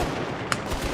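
Machine-gun fire in a winter Danube combat mission rings out as a short burst. One sharper crack stands out in the middle against a steady rumble of battle.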